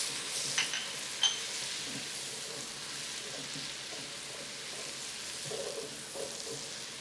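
Golden onions and chopped tomato frying in a pan, a steady soft sizzle that runs throughout, broken by a couple of brief sharp spatters near the start.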